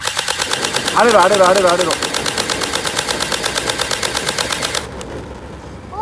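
A G3 SAS electric airsoft gun fires in a long rapid automatic burst, a loud close mechanical rattle of evenly spaced shots, while a voice calls out partway through before the firing stops.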